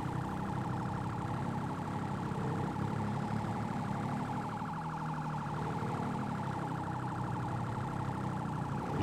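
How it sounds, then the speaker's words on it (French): Police sirens in the video game GTA 5 wail continuously and loudly, several overlapping and out of sync, with a steady engine drone underneath. "Mais en fait c'est pas synchronisé les sirènes."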